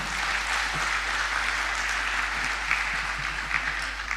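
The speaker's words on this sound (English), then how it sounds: "round of applause" Steady applause from an audience, a continuous wash of clapping at moderate volume that holds evenly for several seconds.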